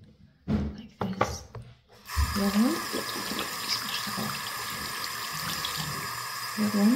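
Water runs steadily from a tap as a continuous broadband hiss, after a few brief knocks and handling sounds at the start.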